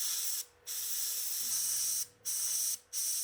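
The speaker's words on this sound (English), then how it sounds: "Next I loaded some MRP burnt iron in the airbrush and added that to the edges of" Airbrush spraying MRP burnt iron lacquer paint onto the edges of a 1/48 scale A-4M Skyhawk model, a steady close hiss in three bursts separated by short silent gaps.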